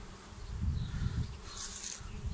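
A dense swarm of honey bees buzzing close by during a hive removal, a steady low drone that swells and fades slightly, with no voices.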